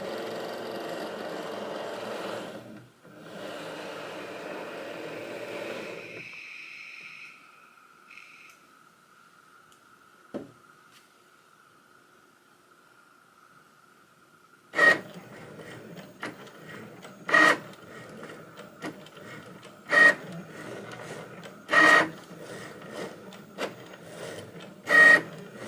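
A Cricut Maker cutting machine works through a card on the large card mat, starting with a steady motor hum and settling into a quiet whir punctuated by repeated short, loud mechanical bursts as the carriage moves.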